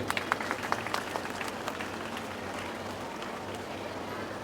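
A gathering of villagers and schoolchildren applauds all the teachers on Teachers' Day, starting with a few sharp, distinct claps that quickly merge into a steady, softer wash of crowd clapping at moderate distance.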